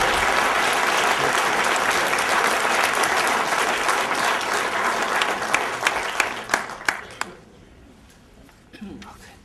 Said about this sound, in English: So big smile and a big round of applause